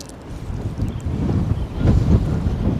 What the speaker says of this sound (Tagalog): Malakas po yung hangin ngayon.